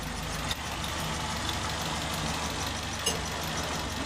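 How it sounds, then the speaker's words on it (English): A Ford Escort Mark 1 engine idles steadily at close range, a continuous low rumble with a slight irregular knock and two small bumps along the way, and no voices. "the engine's running."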